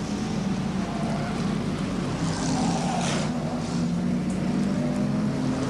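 Race cars roar around a circuit during a stock-car style event, including a big Ford running sideways, heard as a steady, dense engine drone with a broad noisy rumble and no speech.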